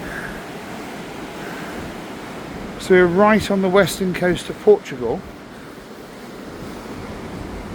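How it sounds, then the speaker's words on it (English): Ocean waves roll against the western coast of Portugal in a continuous, broad roar with wind noise, while someone speaks briefly over it midway through. "can you hear the roar of those waves in the ocean there?"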